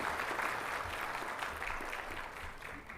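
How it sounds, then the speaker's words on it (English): Applause at a farewell function in honour of a Supreme Court judge, steady clapping from a gathered audience heard at moderate distance, continuous for a few seconds and fading slightly at the close. "Please give a warm round of applause to us."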